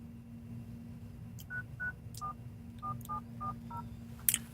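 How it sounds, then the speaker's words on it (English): A phone keypad dials out to another phone, about eight separate touch-tone beeps pressed at an uneven pace over a low steady hum, ending with a brief click. "I'm going to call my phone with it"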